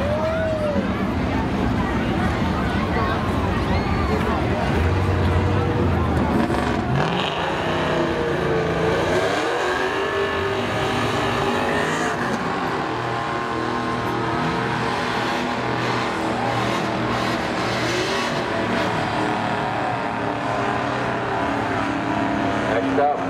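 Race cars roar around the Seekonk Speedway oval during a spectator drags finale, a continuous loud engine drone under a race announcer's steady commentary, with a vehicle sweeping past partway through.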